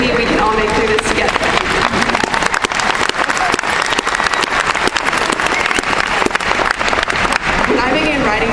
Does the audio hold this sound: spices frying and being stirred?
no